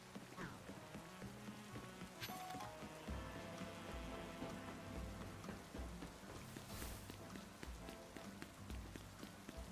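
Rain falls in a Pokemon video game as a faint, steady patter of drops under soft game sounds, with a few brief tapping noises and no speech.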